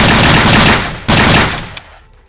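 Rapid automatic gunfire in the VR game Blade and Sorcery, a dense loud burst that briefly pauses, resumes, then cuts off with a few trailing shots.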